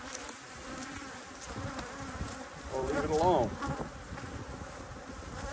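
Honeybees buzz around the hives at an apiary, a continuous close hum that swells as one bee passes near mid-way, while someone talks over the buzzing.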